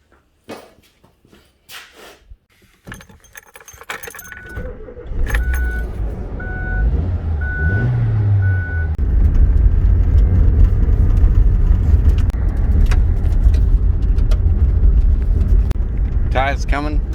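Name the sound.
car being started and driven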